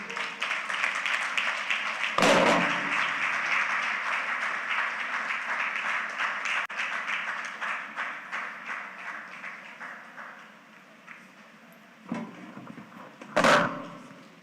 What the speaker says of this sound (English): Another round of applause for Mr. Olalekan Adeko.